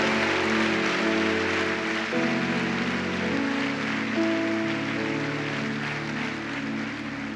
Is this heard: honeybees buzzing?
no